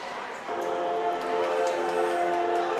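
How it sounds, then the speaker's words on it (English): A referee's whistle at a college ice hockey game, NIU Huskies against Western Michigan, gives a steady, sustained shrill tone over crowd and arena noise, with a commentator's voice faintly present. "Got a whistle."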